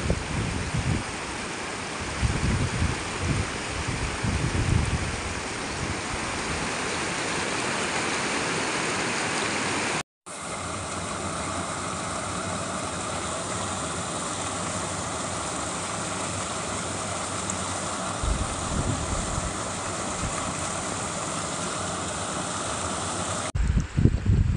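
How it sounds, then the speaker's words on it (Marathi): Water rushes steadily over the overflowing Nandari Dam in the green hills near Kolhapur, a loud, continuous broadband roar with a brief cut partway through. "बघा पाणी गाते गाणे।"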